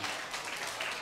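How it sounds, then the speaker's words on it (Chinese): Audience at an anniversary celebration applauds for a music-troupe accompanist, a steady dense patter of clapping throughout, moderately loud and continuous. "来，掌声鼓励一下"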